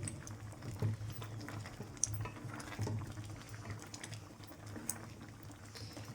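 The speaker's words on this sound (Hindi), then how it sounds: "इस स्टेज पर थोड़े से छींटे पड़ेंगे, हाथ बचा के काम करना है। टमाटर गल चुके हैं तकरीबन।" Tomatoes simmer in a pan, giving a faint, steady bubbling with light irregular pops and spatters, quiet and close with no speech.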